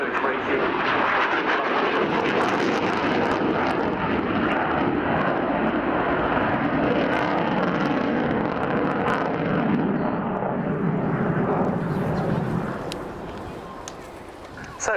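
A fixed-wing aircraft roars overhead at the Air Tattoo 2018 air show, its engines giving a loud, sustained rushing roar that fades near the end while a commentator talks.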